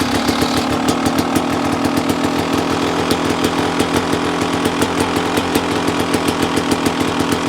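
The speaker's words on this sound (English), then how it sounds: "it's hard to talk with a bike running" A Beta motorcycle engine runs loud and close, a steady, rapid buzzing, pulsing two-stroke-like drone at constant revs, with no one speaking over it.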